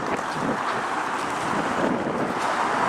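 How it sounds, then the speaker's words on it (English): Strong outdoor wind buffeting the microphone, a constant low roaring rumble that stays heavy and unbroken from start to end, with no one talking. "hopefully it won't be so windy"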